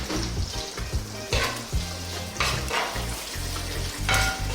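Onions with a garlic-ginger paste fry in a pan over above-medium heat for a Sri Lankan dish, a continuous hiss and sizzle broken by stirring scrapes and bursts over several seconds.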